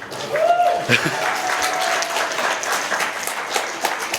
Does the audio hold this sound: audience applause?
yes